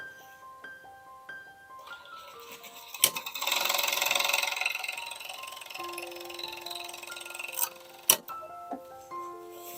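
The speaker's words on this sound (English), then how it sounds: "just a simple overlock stitching" An overlock sewing machine stitching a cardigan jacket runs in a steady, close whirring burst of about four seconds. Sparse clicks and light taps come before and after it.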